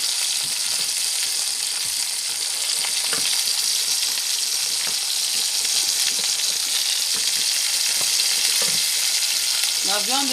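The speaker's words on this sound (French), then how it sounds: "Je mélange." Oxtail meat stirred in a pot, sizzling and frying steadily throughout, with scraping stir strokes breaking through the hiss and a brief clink near the end.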